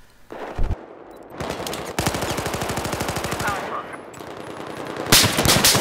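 Gunfire in a multiplayer shooter video game, with a single heavy blast, then long stretches of rapid automatic fire and a loud burst near the end, all close and dense.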